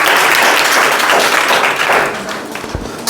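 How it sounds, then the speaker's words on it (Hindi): Students in a Class 12 Hindi classroom clap together in a loud, dense burst of applause that gradually thins and fades over about three seconds. "ताली बजाइए दोस्तों"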